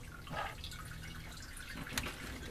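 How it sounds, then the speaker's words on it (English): Fuel drips and trickles back into the in-tank area of a Volvo 700/900-series car during fuel pump replacement, soft liquid patter with a brief sharper drop, close and quiet. "Let this thing drain back into the tank here."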